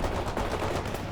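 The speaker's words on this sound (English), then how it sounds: "Fire your rifles." Dense rifle gunfire from the World in Conflict video game, a rapid continuous rattle of overlapping shots with no gaps, loud and close throughout.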